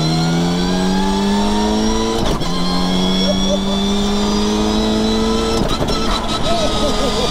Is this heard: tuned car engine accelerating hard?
yes